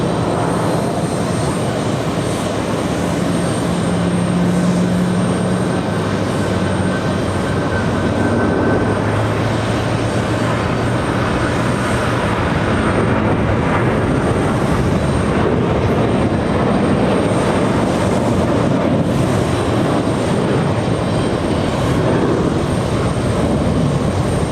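A Boeing 777-300ER airliner of American Airlines arrives at JFK from London Heathrow, a steady, broad jet roar with rumbling low end that holds level throughout, heard from a distance outdoors with no talk over it.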